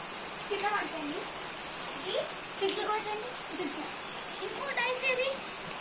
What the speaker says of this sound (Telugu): వర్షం పడుతుందండి